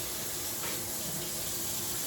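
Water runs from a kitchen tap during a cooking session, a steady broadband hiss that holds evenly at moderate level for about two seconds with no voices over it.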